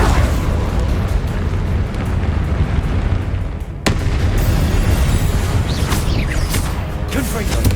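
The Incendio fire spell in Hogwarts Legacy on PS5 is cast with a roaring, explosive whoosh of flame. It sounds loud and close, breaks off briefly, then returns in a dense, rumbling burst.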